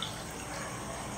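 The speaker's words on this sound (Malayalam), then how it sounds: "അപ്പൊ ഇനി ഇത് നമുക്ക് ഗ്ലാസ്സിലേക്ക് ഒഴിക്കാം." Carrot juice poured into a glass makes a soft, steady liquid rush, brief and fairly quiet, with no voices.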